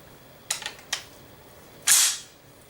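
Mechanical clicks from an M1 Garand during a function check as the trigger is pulled and the hammer falls, a few sharp close snaps followed by a louder metallic clack, with no talking.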